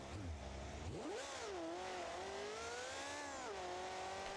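Supercharged monster truck engine with a huge crank-mounted blower in BeamNG.Drive, revving up sharply after a low idle and then holding high, wavering revs with a strong whining harmonic tone, loud and close.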